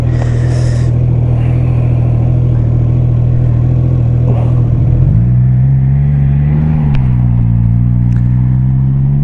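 A loud, steady Triumph Trident 660 motorcycle engine idles close by, then the pitch rises and falls as the throttle is blipped, with a low rumble throughout.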